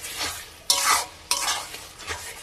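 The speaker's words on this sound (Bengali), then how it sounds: "টমেটোটাকেও কষিয়ে নেবো আমি ভালো করে এর সঙ্গে।" Tomato and spices being sautéed in a pan for mutton curry, with a steady sizzle broken by two sharp stirring scrapes and a softer third, heard close and alone.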